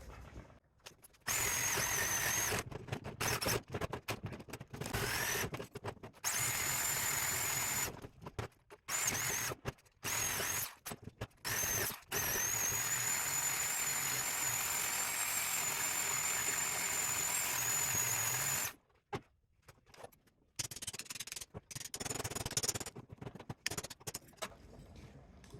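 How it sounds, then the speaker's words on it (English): A Sawzall reciprocating saw cuts through scrap metal salvaged from a dumpster: loud, harsh buzzing runs in bursts with a high metallic squeal, broken by short pauses and one longer stop near the end. "See if we can get the rest of it with the Sawzall."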